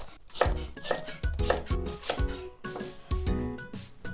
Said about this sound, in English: So the bottom part, I'm gonna cut them diagonally